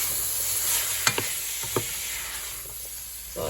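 Pork and cabbage stew ingredients browning in a pot for Polish kapusniak, a steady close sizzle with a few sharp utensil clicks and scrapes, no talking.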